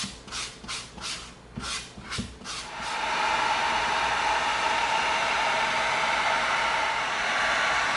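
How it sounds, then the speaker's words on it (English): A close, rhythmic rasping of a 220-grit sanding stick evening the edge of EVA foam gives way to a steady, hissing whir of continuous abrasion. "let's come in with our 220 sanding stick. Let's get that edge even."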